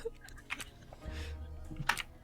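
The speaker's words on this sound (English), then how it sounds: "You hear him typing?" Rapid clicking keystrokes scattered across the clip, with a couple of louder clacks and a low hum underneath; no talking.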